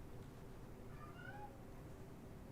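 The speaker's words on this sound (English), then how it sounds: "If you hear a cat crying, that's little one" A small cat cries with a short, faint meow, set against steady low background hum.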